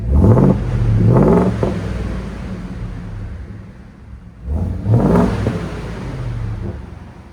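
A Ford F-250 with a 7.3L Godzilla V8 and Borla exhaust revs loudly twice, each throttle blip swelling into a deep exhaust roar and then falling back toward idle.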